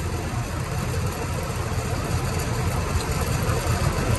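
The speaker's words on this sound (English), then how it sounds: "lost my damn meter leads to that damn outdoor fan motor" The outdoor fan motor of a Lennox air conditioner runs with a steady, low droning hum that stays even and unbroken throughout.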